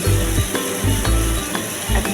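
Onion, tomato, ginger and garlic sizzle steadily in a hot pan. A spoon scrapes and stirs through them in rhythmic strokes, loud and close, with no talking.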